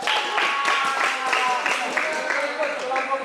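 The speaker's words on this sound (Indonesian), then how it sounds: "Tepuk tangan untuk kelompok." A classroom of students claps for a student group, a brisk, steady patter of many hands lasting a few seconds, fairly close, with voices mixed in.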